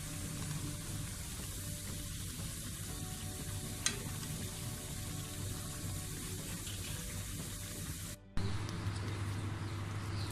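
Pakoras sizzling in hot oil, a steady dense crackling fry that runs throughout, with a brief clatter and a short drop in the sound near the end.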